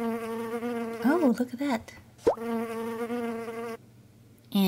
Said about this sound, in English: She is throwing bees everywhere.